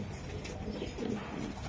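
Soft, low cooing from racer pigeons at a club loft, continuous and fairly close against a busy background murmur, with no clear speech.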